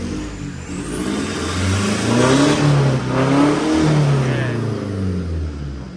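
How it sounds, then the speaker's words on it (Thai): A car engine revs up and down repeatedly while its diesel fuel injectors are being tested, with the engine running rough and shaking. The steady, loud mechanical drone rises and falls close by, with no talking. "เครื่องติดสั่นนะเร่ง"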